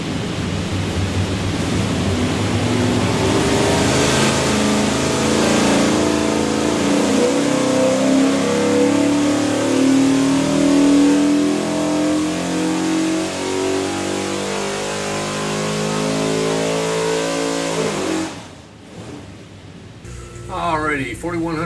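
A 331 cubic inch small block Ford stroker built for a 1972 Maverick hill climb car roars on a dyno in one long, loud wide-open pull. Its pitch climbs steadily before the engine abruptly drops off near the end.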